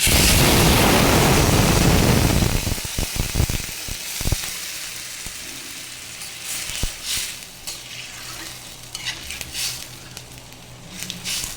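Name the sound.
water added to a hot pan, sizzling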